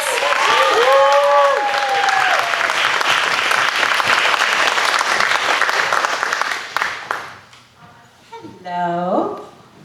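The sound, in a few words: audience applause for comedian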